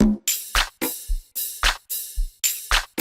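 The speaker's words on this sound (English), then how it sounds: "I lay down a simple like drum loop" A basic amapiano drum loop made in FL Studio repeating a steady kick and snare pattern, dry and upfront, cycling several times with no voices.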